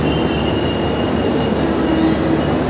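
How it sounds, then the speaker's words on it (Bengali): Wheels squeal steadily as the Modhumoti Express, running Dhaka to Rajshahi, brakes, a thin high screech held over a dense continuous rumble and clatter of rolling carriages, loud and close throughout. "ট্রেন কিন্তু আবার ব্রেক দিল।"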